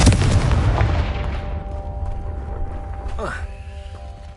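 A Confringo fire spell explodes in the Hogwarts Legacy video game: a loud booming blast that rumbles and decays over a few seconds, followed by a brief whooshing magical effect.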